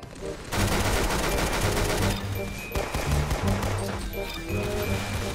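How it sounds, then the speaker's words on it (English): Dense, loud gunfire in a shooter video game, continuous bursts layered over game music and effects, with a short break partway through before the shooting resumes. "I have a good gun, but I'm still missing all the shots."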